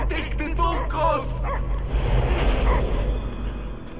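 Cosmo, the space dog in the game Guardians of the Galaxy, barks and yips in short bursts amid background game sound, while voices talk over parts of it.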